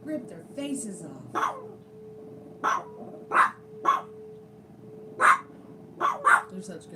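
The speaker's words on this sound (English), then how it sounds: "They're such good guard dogs." Guard dogs bark sharply in short bursts, some paired, with a low steady hum underneath and a voice talking at the start.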